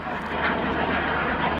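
A jet aircraft roars steadily overhead during a display manoeuvre at the RAF Cosford Airshow, a loud, broad, continuous engine rush with no break.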